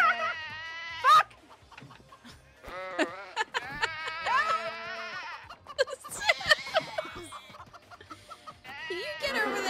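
Bleating cartoonish sheep in the co-op furniture-moving game Moving Out cry out repeatedly in loud, wavering bursts, with clucking farm-animal calls and game noises mixed throughout.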